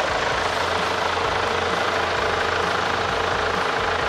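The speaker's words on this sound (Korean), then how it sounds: "엔진 소리 일정하고 좋습니다" A steady, continuous engine idle from a Kia Carnival minivan hums evenly with a low rumble and dense, unchanging noise, close and fairly loud.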